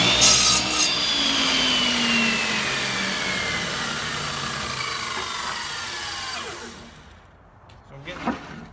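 A cheap garage-sale power saw cuts the ends off pallet boards, whining loudly and steadily through the wood, then winding down and fading near the end, with a brief clatter after.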